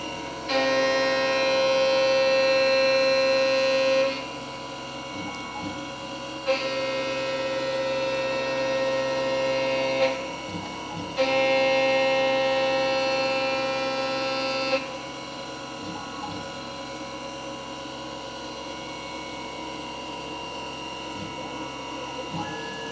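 A Langmuir Systems MR-1 CNC mill runs a facing program with coolant on, a steady machine hum and whine punctuated by three longer stretches of louder, brighter cutting noise.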